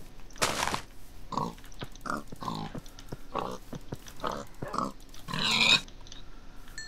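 A pig in the video game Minecraft oinks and grunts in a series of short, distinct calls, about eight bursts spread unevenly across several seconds at moderate loudness, with no talking.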